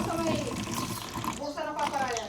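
Running water from a tap or hose, a steady continuous splashing flow close by, with people talking over it throughout.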